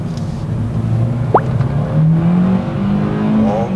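Engine of a 2018 Kia K3 revving steadily under acceleration on the road, a continuous loud drone with rising pitch and one brief sharp squeak partway through, no talking.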